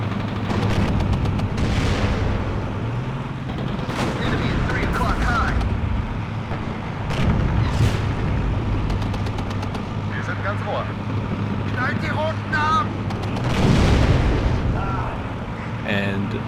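Tank cannon fire in the WARNO real-time strategy game, with a T-80 tank under attack: repeated heavy booms and gunfire bursts over a constant engine-like rumble, with talk running throughout.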